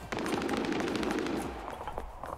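Sustained automatic gunfire in the battle royale game Apex Legends, rapid rattling shots close up, easing slightly toward the end.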